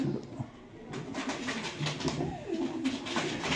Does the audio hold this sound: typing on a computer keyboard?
no